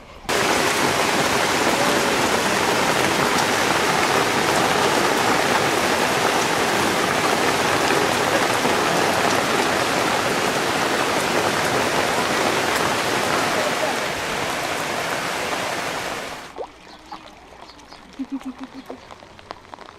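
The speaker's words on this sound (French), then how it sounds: "the raining, heavy rain" Heavy rain in Nepal pours in a dense, loud hiss for most of the clip, then cuts off abruptly, leaving quieter scattered sounds.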